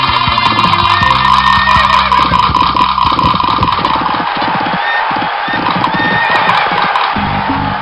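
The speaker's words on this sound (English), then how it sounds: "and the horse race near the funhouse" A horse race scene in the Freddi Fish 3 video game, with loud horse whinnies and galloping hoofbeats over a busy, steady game soundtrack that runs throughout.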